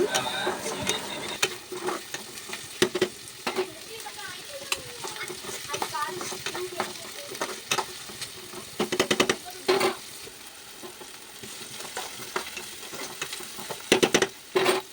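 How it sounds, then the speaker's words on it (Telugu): Onions and chillies fry in hot oil with a soft steady sizzle, punctuated by frequent scraping and tapping of a spatula stirring in the pan. "ఇప్పుడు ఆయిల్లో ఆనియన్స్, చిల్లీస్ వేసుకుందాం. వేపుకుందాం వీటిని బాగా."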